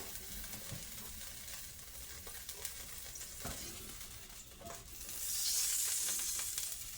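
Browned slices frying in oil in a wok give a steady close sizzle with small crackles and pops, the hiss swelling louder toward the end.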